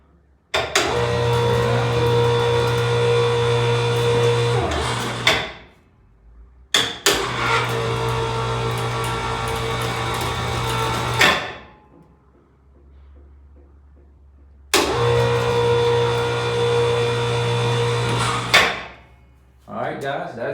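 An Amazon-bought electric hoist runs in three separate bursts of roughly five seconds each, a steady motor whine with low hum, starting and stopping abruptly with short pauses between runs.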